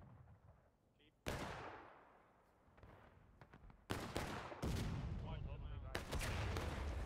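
Musket gunfire in the video game War of Rights, Piper Farm map: loud ragged volleys and scattered independent shots cracking in bursts, some near and some distant, with sharp onsets and lingering rumble between them.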